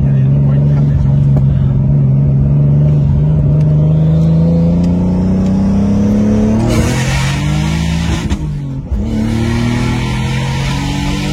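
Engine-swapped BMW with a 540 hp big turbo accelerating hard, a loud close roar climbing steadily in pitch with a gear change near the end, people's voices faintly under the engine.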